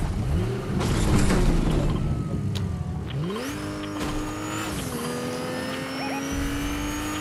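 A car in the Fortnite video game drives fast, its engine whining up through rising gear shifts with squealing tires and a passing rush, loud and close with no talking.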